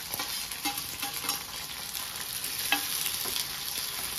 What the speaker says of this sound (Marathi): आणि आता ही मिरची मी ह्या तेलामध्ये लसूण मिरची आणि शेंगदाणे शिजवून घेणार आहे